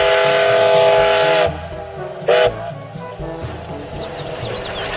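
A Thomas the Tank Engine toy train plays an electronic steam whistle and chugging sounds, tooting in bursts with a brief sharp hiss in between, fairly close and without talk.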